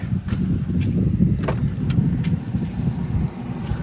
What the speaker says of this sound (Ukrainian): кондиціонер працює